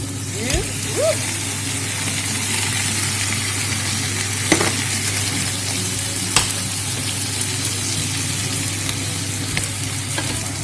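Vegetables sizzling and frying in a pan as they are added, a steady broad hiss with occasional stirring clicks, loud and close throughout with no talking.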